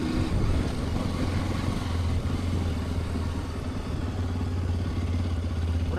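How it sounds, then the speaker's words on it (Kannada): A Hero Xpulse 210 motorcycle on a test ride drones steadily at close range, its mid-pitched engine running continuously throughout. "ಸೊ ಫೈನಲಿ ಬೈಕ್ ಟೆಸ್ಟ್ ರೈಡಿಗೆ ಸಿಕ್ತು ಚೆನ್ನಾಗದ ಗುರು ಗಾಡಿ"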